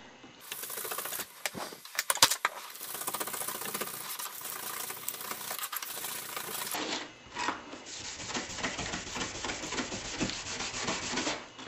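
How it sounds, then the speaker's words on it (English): Scotch-Brite pad or very fine grit sandpaper scrubbed across a copper circuit board, a steady close abrasive rubbing with short back-and-forth strokes that continues throughout. "This can be done with a piece of Scotch-Brite or a piece of very fine grit sandpaper."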